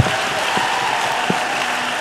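An audience claps together in a dense, sustained wash of applause, steady in level with a few sharper individual claps standing out.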